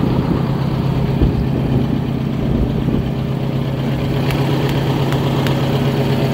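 Detroit Diesel engine in a Transtar truck runs at a steady idle, a loud, continuous low rumble with an even mechanical throb and a few faint ticks near the end.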